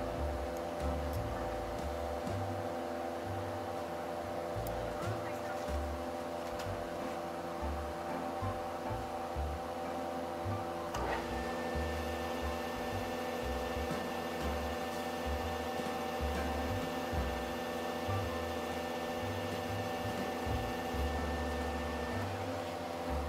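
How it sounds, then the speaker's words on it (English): A metal lathe machines the angled face of a big bevel gear, giving a steady mechanical hum with a low, uneven churning of the cut and a thin tone rising partway through, with no talk over it. "machine the angled face down until it touches that mark"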